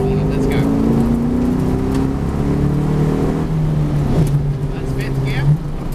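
A V8 race car on a lap at Norwell circuit drives hard out of a corner, its engine a loud, close, continuous roar that climbs in pitch as it picks up speed, with faint talk underneath.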